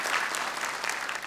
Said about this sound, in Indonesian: tepuk tangan untuk Ahsan